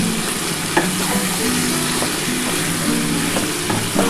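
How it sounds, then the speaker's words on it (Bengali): Chicken with capsicum and plenty of green chillies stirred in a pan: loud, continuous close sizzling with the scrape of a spatula working through the pieces, no voices. "এবার এটা একটুখানি ভালো করে নাড়াচাড়া করে নেব"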